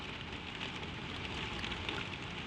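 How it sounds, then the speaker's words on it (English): Gentle rain falls steadily on a lambing shed, a soft, even, continuous patter with no breaks, quiet and close. "The rain is soft."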